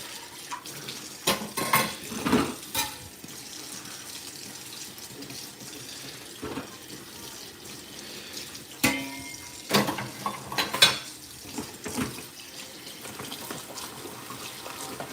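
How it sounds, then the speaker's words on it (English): Dishes are washed at a running kitchen sink as water flows steadily from the tap, with plates, pans and cutlery clattering and knocking in irregular bursts close by, and no one speaking. "Finish washing these dishes real quick."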